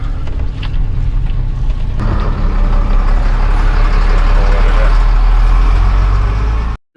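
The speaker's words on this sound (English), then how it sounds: "Early morning traffic jam." Heavy trucks and cars crawl in early morning traffic on a narrow mountain road, giving a loud, steady engine rumble and road roar close by for the whole stretch, ending in a sudden cut.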